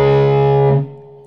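A single sustained distorted electric guitar chord from an intro riff rings loud and close, then is choked off abruptly, leaving a short fading tail.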